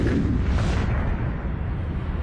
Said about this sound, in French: Ça peut être par exemple l'explosion d'une étoile.